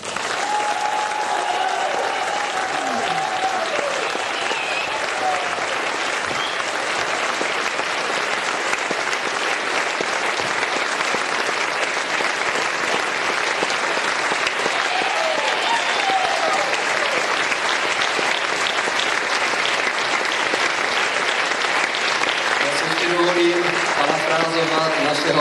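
A crowd at the 55th anniversary celebration of the Danaj folk ensemble in Strážnice keeps up long, loud, sustained applause, with voices rising over the clapping toward the end.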